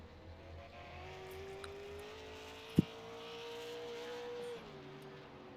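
A race car lapping the Thompson track, its engine a thin, steady distant drone that shifts pitch slightly as it circulates, with one sharp click midway.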